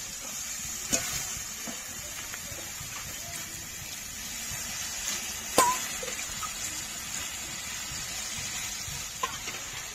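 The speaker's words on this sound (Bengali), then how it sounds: "এখন জল দিয়ে দেব।" Water is added to a pan of spice masala that has released its oil, for a Bengali tangra fish curry. A steady close sizzle and hiss runs throughout, with a few faint clinks and stirring taps.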